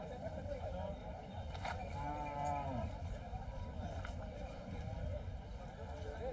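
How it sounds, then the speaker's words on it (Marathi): A bull lowing at a busy cattle market, a drawn-out tonal moo rising out of steady crowd and vehicle noise, moderately close, with a shorter call a moment later. "हा आहे बैल"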